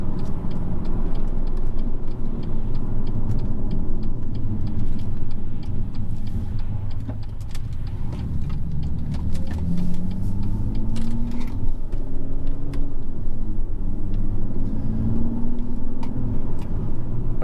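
A BMW M2 cruising along a flowing country road, a steady, loud engine and road rumble from inside the car with faint ticking and no talking.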